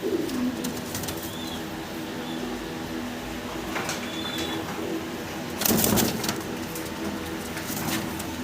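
A pair of pigeons coo with soft, low, repeated calls over a steady background hum, with a brief louder rustling burst partway through.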